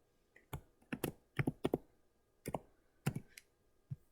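Keys click on a computer keyboard as text is typed: quiet, irregular taps in small clusters with short pauses, heard alone in a quiet room.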